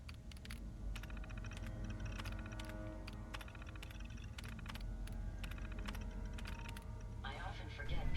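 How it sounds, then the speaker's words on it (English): Keys clatter in rapid, uneven bursts as someone types on a terminal keyboard in the video game Fallout 4. A steady low hum runs underneath, and a brief electronic chirp sounds near the end. "I often forget people need to use the keyboard to access a terminal."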